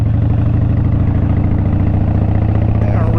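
A Harley-style motorcycle engine idles close by with a loud, steady, low rhythmic rumble that holds throughout, a faint voice briefly audible near the end.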